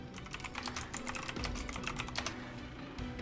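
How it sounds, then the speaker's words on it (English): Fast typing on a computer keyboard, a steady run of crisp, close key clicks lasting a few seconds, with no talking over it. "How much can you hear of my typing, by the way?"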